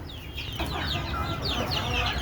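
Desi chickens cluck and chirp steadily while pecking at paddy grain, a dense flock chorus close by with repeated overlapping calls and no talk.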